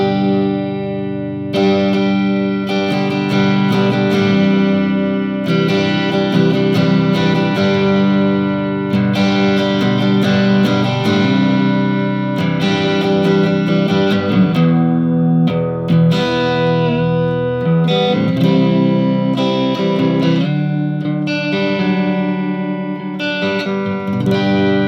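Electric guitar played through a Positive Grid Spark amp on the Glassy preset, a setting between crunch and clean with reverb, strumming chords and picking notes continuously and loudly for the whole stretch, with no talking.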